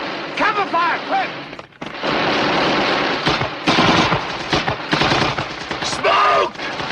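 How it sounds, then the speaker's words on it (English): Heavy machine gun fire and scattered gunshots in the 1977 war film A Bridge Too Far, loud sustained bursts with shouted voices cutting through the battle din. "Take cover! Cover fire, quick!"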